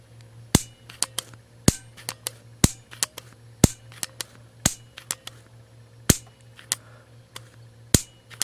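A barbecue igniter button is pressed repeatedly to fire a neon bulb, producing sharp, close, isolated clicks at irregular intervals about every half second to a second over a faint low hum.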